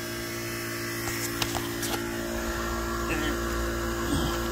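A 2-ton heat pump compressor runs at 60 hertz from a battery bank. It makes a steady electrical hum with a buzzing drone, joined by a few faint clicks and rattles nearby.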